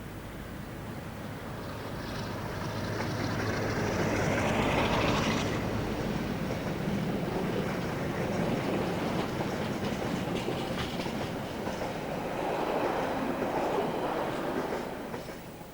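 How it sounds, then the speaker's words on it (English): A Leeds–Southampton Freightliner freight train rolls past on the railway, a long continuous roar of wheels and wagons with rhythmic clatter, swelling loud early on and holding steady throughout. "Heading for the southwestern is the Leeds-Southampton Freightliner."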